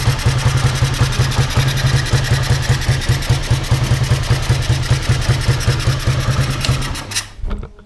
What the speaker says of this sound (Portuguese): Será que corta giro? Corta giro demais